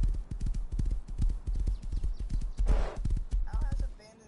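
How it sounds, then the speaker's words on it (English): Horse hooves clip-clopping in the survival video game Rust, a steady rapid rhythm of close, distinct hoof strikes that carries on throughout with a short rustling burst partway through. "We got a damn horse."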